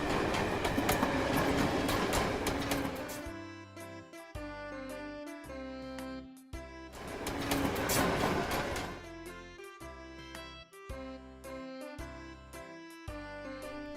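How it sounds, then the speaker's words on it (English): An airport train rumbles past in two broad bursts of rail noise, loud and close, alternating with upbeat background music. "Airport train."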